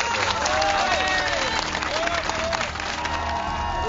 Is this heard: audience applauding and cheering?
yes